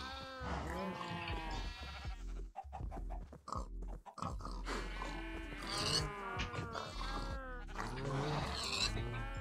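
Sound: pigs oinking in Minecraft video game

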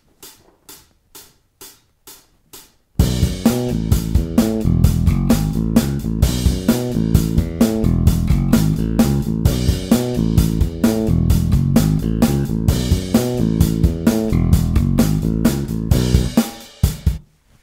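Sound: bass guitar playing the opening riff of a song

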